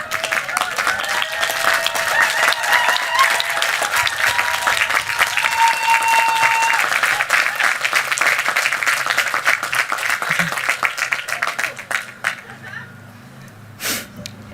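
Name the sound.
graduates applauding their support team at commencement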